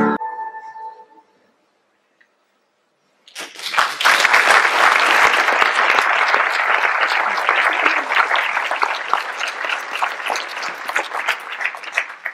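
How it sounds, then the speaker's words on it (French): An audience breaks into loud, sustained clapping after a short stretch of quiet, the applause from a full room rising quickly and continuing steadily to the end. "Merci pour vos applaudissements"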